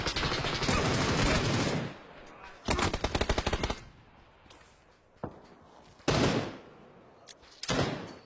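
Gunfire in a shooter video game: several loud bursts of automatic fire, each lasting a second or more, separated by quieter gaps with a few single shots.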